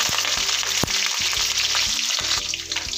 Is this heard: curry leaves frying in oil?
yes